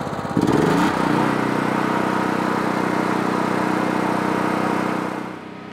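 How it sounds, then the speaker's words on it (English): A Generac XT8000E open-frame generator runs loud and close. Its steady, buzzing mechanical drone holds evenly for several seconds after a rougher start, then eases off slightly at the end. "These open frame generators are by no means quiet, which is why they're not good for camping and whatnot."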